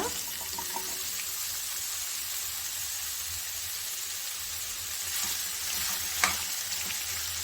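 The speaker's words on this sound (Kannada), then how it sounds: "ನಾವಿಲ್ಲಿ ಕಟ್ ಮಾಡಿ ಇಟ್ಕೊಂಡಿರ್ತೀವಲ್ಲ ಹೀರೆಕಾಯಿನ ಅದನ್ನ ಇದಕ್ಕೆ ಹಾಕೊಳ್ಳೋಣ" Chopped ridge gourd tipped into a hot frying pan for a quick palya side dish, giving a steady hiss of frying with stirring scrapes throughout and a sharp clatter near the end, no talking.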